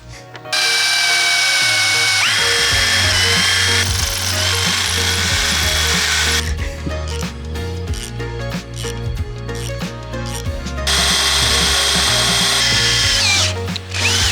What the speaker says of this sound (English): So all we have to do is drill and tap here